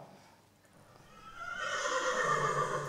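A stallion whinnies in a recording of two stallions that lived together. The call begins faint and swells into a loud, sustained, wavering neigh.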